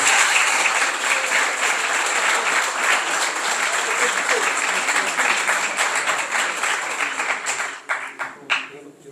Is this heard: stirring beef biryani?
no